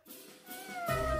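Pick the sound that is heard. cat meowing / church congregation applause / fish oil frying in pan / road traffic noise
cat meowing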